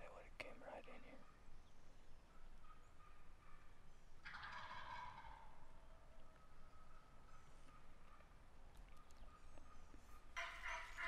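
Wild turkeys gobbling on public land near a barbed wire fence, distant bursts carried over steady outdoor hiss, with soft whispered talk underneath.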